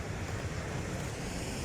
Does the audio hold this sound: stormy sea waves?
yes